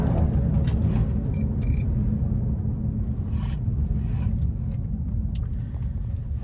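A car driving along at steady speed, with constant low engine and road rumble and light wind noise filling the cabin, no talking.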